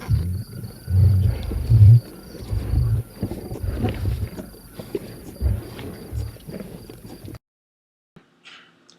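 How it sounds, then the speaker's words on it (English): Dinosaur eating effect built from a lion eating: close, loud bursts of low growling, tearing and crunching in an uneven rhythm, cutting off into near silence with a few faint trailing sounds. "The sound of the dinosaur eating was created by cutting up the sound of a lion eating."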